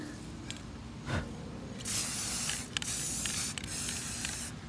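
Short bursts of aerosol spray from a can of clear matte coating, applied over a DIY Halloween clock, with hissing sprays of about a second each and brief pauses between them, close and fairly loud.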